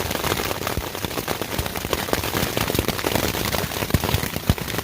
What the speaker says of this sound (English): Now the hail is getting smaller, which is good.